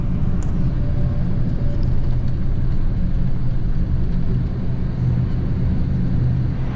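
A comfortable coach bus driving into Venice, a steady loud engine rumble and road drone from inside the cabin, continuous throughout with no talking.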